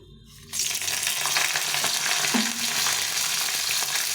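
Dry red chillies, cumin, cardamom, cinnamon and torn bay leaf dropped into hot oil for tempering, erupting into an abrupt, steady crackling sizzle with a faint clink midway.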